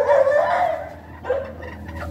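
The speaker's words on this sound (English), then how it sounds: "get a sore throat from barking" Dogs bark and yip close by in a home, a couple of loud, sharp barks followed by a quieter whining yelp, with no talking over them.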